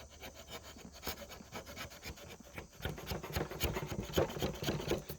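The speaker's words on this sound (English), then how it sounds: "take a chisel and just kind of bump it with your hand a few times just to kind of square the corner up" A chisel scrapes and taps at the corner of a wooden stair stringer, squaring it up with a series of quiet, irregular rubbing strokes and small knocks that grow busier in the second half.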